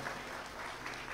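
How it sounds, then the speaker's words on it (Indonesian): A church congregation applauding during a sermon, a dense, even wash of many hands clapping, steady and somewhat distant, heard alone without talk. "tepuk tangan dulu bagi yang menjadi Samaria"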